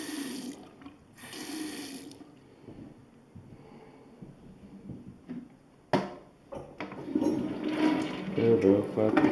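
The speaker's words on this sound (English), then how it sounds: "Turbo fucking flush." A bathroom toilet flushes: quiet hiss and faint sounds at first, then a loud surge of rushing, swirling water near the end, close to the microphone.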